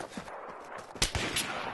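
Gunfire in the video game Battlefield 3, a few sharp shots at moderate volume over a noisy game background, no talking.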